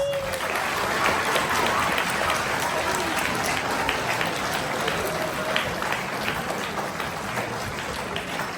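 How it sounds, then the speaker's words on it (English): Dense, continuous audience applause filling a school winter music concert hall, a close, even roar of many hands clapping with scattered voices mixed in throughout. "give your parents a round of applause"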